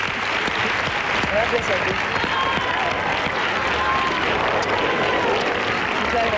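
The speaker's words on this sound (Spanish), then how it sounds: "Un aplauso." Studio audience on the Spanish TV show Tiempo al Tiempo applauding steadily for a singer, a dense even clatter of many hands filling the room, with a presenter's voice speaking briefly over it.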